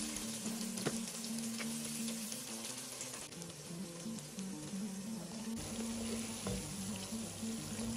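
Onions fry in a cast-iron kazan for Uzbek plov, a dense, steady hiss and crackle of hot oil sizzling close by, continuous throughout with a faint low hum beneath and no talking.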